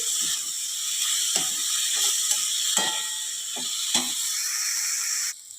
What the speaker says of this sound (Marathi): आता कारले आपल्याला एखाद मिनिटभर तेलात चांगल्या परतून घ्यायचे आहेत